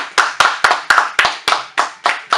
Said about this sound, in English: Let's go ahead and clap it up, people.